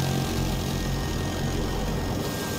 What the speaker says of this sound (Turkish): Bak helikopter var.